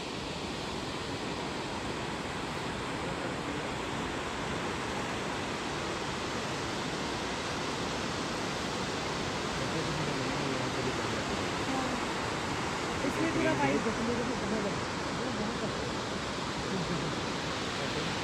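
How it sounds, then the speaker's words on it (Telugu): Barachukki waterfalls in Karnataka, a steady broadband roar of rushing water that holds constant throughout, with a slight swell near the end. "ఇది బరచుకి వాటర్ ఫాల్స్"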